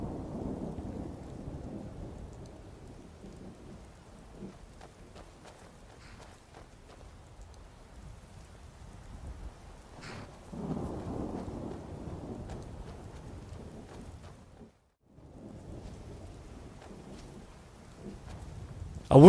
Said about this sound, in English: Oh, I love these dark and moody storms.